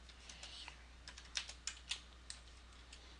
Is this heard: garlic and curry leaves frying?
no